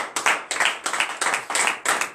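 A church congregation claps together after a French-language morning prayer, striking in a steady, rhythmic beat of roughly four claps per second, loud and close, with no talk over it.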